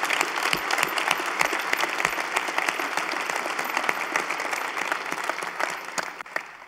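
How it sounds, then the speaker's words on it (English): A packed audience at a full-house evening event breaks into sustained applause, a dense wash of many hands clapping steadily for the whole stretch with a few sharper claps standing out near the front. "It's a full house tonight. Let's give them a big round of applause."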